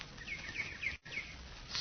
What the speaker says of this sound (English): In the trees above them, large squirrels chatter and scold, while gaily plumed birds start about like streaks of flame among the branches.